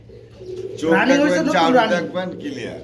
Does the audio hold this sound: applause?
no